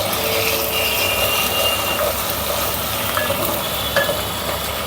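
Mutton frying in a pan with garlic paste while being stirred: a steady, dense sizzle with faint scraping movements runs evenly throughout, close and moderately loud.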